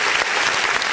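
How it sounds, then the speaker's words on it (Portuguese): A church congregation claps together in a dense, steady burst of applause, loud and close throughout the short moment. "Vamos aplaudir o nome do Senhor Jesus"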